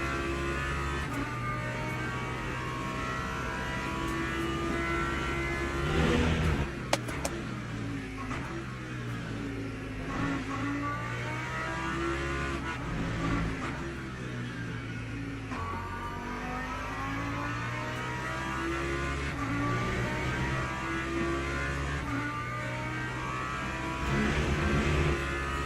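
A Lamborghini race car engine in Le Mans Ultimate on a wet Silverstone circuit drones and revs steadily throughout, rising and falling in pitch through gear changes, loud and continuous with no talking.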